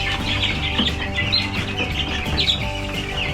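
Chickens on an Alaska homestead cluck and chirp in a steady, busy chorus close by, with scattered higher calls over a constant low rumble of background noise.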